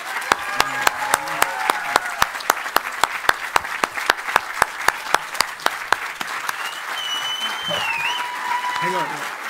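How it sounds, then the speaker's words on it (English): A crowd applauds at a paper company announcement event, with distinct, rhythmic, loud claps that soon melt into general cheering and overlapping voices. "Round of applause, please."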